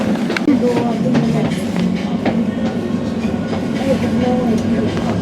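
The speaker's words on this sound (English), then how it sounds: "This is the train to Abbey Wood via Canary Wharf." A London train bound for Abbey Wood via Canary Wharf rolls along with a steady interior rumble and faint wheel clatter, while an onboard announcement voice speaks over it.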